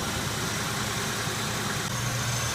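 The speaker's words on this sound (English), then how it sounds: "I do believe the engine is running at the final step of the choke high idle" An Oldsmobile 307 V8 runs at choke high idle during an EGR gasket repair, a steady, close, even engine drone with no talk.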